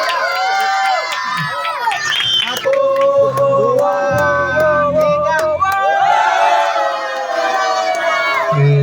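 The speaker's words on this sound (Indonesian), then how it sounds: "beri tepuk tangannya yang meriah." A large crowd cheers and shouts over a steady roar of noise, with loud voices rising and falling throughout and no break in the din.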